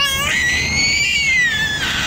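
A baby lets out a long, high, wavering scream that rises and holds for about two seconds, loud and close, with no talk around it.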